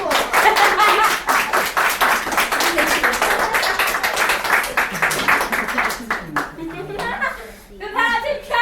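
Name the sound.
audience applauding a volunteer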